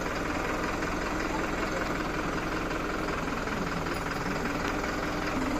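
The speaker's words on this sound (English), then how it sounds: "Receiving the new tractor," A brand-new New Holland tractor engine runs at a steady idle on a farm, giving a constant mid-pitched drone at moderate level with no clear break.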